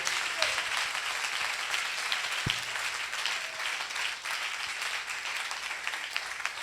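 Congregation applauding and cheering during a church anointing service, a steady wash of crowd noise that holds at the same level throughout, with one low thump partway through.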